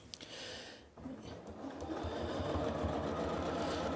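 Home sewing machine running steadily for free motion quilting, a continuous close mechanical whir that starts after a brief pause and builds to a sustained even drone.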